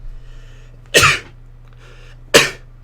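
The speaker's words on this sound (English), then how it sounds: "I'm going to sneeze." A person sneezes twice at close range: two sharp, explosive bursts about a second and a half apart over a low, steady background hum.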